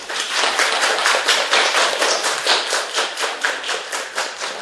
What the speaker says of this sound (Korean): 좋은 주제로 발견해 주신 김윤석 작가님께 다시 한번 큰 박수 부탁드리겠습니다.